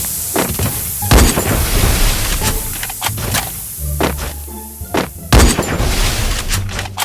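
Grenade and smoke grenade blasts in a video game ring out as repeated sharp booms and bangs, loud and close, scattered irregularly over a dense game soundscape.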